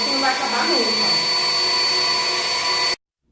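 A professional hair dryer roars steadily while drying a cat's fur, a loud continuous whir with a brief vocal sound early on, then cutting off abruptly into silence near the end.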